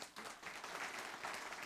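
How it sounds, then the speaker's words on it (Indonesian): Congregation applauding at a church service, a dense wash of many hands clapping that swells and holds steady for a couple of seconds, moderately distant and fairly quiet. "Kasih tepuk tangan dong."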